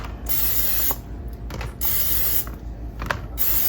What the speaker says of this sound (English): I'm gonna go ahead and use that same cooking spray.